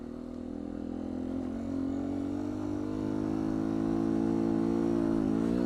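A 2019 Beta 125 RR-S two-stroke dirt bike riding in gear, its engine droning steadily close by and rising slightly in pitch toward the end.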